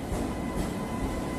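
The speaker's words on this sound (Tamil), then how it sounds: "ஓகே, ட்ரெயின் வந்துருச்சு." A train pulls into a station, its steady rumble of wheels and carriages filling the scene at close range, continuous and fairly loud without voices.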